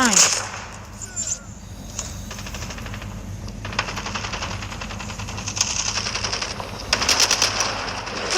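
Gunfire in the first-person shooter Call of Duty: rapid automatic bursts crackle through much of the scene, louder near the end, over a steady game background with faint talk.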